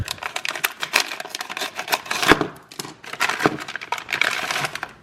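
Crisp snipping and crinkling of scissors working through stiff plastic packaging, a rapid series of cuts with rustling, close by.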